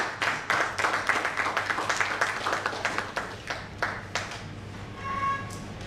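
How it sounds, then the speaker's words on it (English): An audience at a tech alliance forum gives a round of clapping for a keynote speaker. Individual claps stay distinct and rhythmic, then thin out after about four seconds as a faint ringing tone rises. "Give her a better round of applause."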